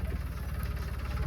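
A tractor engine idles with a steady, low, throbbing rumble and a fast regular pulse, close by and continuous, with no voices.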